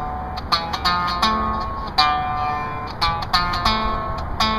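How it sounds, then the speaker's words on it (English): Strings on a homemade guitalele ring with a buzzy, sitar-like rattle from imperfectly cut nut slots, a handful of plucked notes and short strums heard close and alone. "Bit of a sitar sound."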